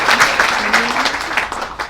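Audience applause at the dedication of a new YMCA in Chatham Park, a steady dense wash of clapping held at an even, fairly loud level, with faint voices mixed in.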